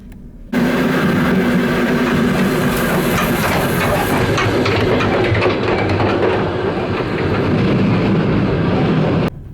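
A train in Kazakhstan rumbles past up close, loud and steady with a rhythmic clatter of wheels over the rails, then cuts off abruptly.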